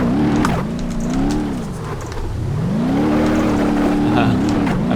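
A car engine in the BeamNG Drive driving game revs continuously, pitch climbing and dropping through gear changes and acceleration, loud and close with a throaty buzzing tone.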